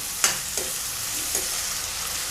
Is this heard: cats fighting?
no